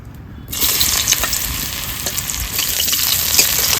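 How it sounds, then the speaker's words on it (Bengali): Lentil dumplings (dal bori) frying in oil in a village kitchen, a steady dense sizzle that starts abruptly after a brief quiet moment and continues loud and close with small crackles throughout. "তেল দিয়ে দিচ্ছি ডালের বড়ি কটা ভেজে নেবো"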